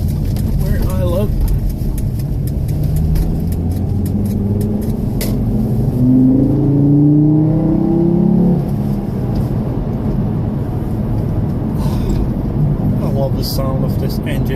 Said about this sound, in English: The sound of this engine,